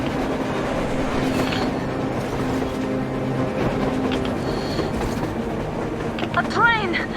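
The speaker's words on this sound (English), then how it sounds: "A train! A damn train on the surface!" A train rumbles past in Metro Exodus amid a snowy blizzard on the surface, a steady rolling roar with a rising metallic screech near the end, with talk over it.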